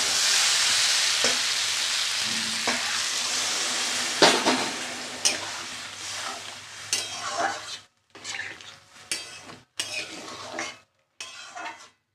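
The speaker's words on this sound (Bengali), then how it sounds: "এবার আমি একটু জল দিয়ে দেবো" Water poured into a pan of sautéed vegetables sets off a loud, steady sizzle that fades after a few seconds, followed by intermittent scraping and stirring clinks against the pan.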